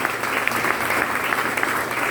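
Church congregation clapping together during a Spanish-language worship service, a dense, loud and continuous round of applause heard up close with no talk over it.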